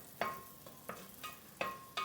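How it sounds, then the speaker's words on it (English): Onion mixed with garlic cooking in a pan, heard as a soft, steady sizzle with several sharp scraping stirs spaced out at irregular intervals, close and fairly quiet, with no talking. "while my onion is cooking"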